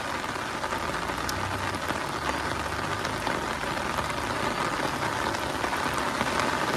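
Steady rain falls and patters on surfaces, a dense, even hiss with scattered drops, moderately loud and continuous with no voices.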